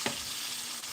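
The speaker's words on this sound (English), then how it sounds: "frying." Chicken pieces fry in a pan in small batches, a brief, quiet, steady sizzle and crackle with no voices.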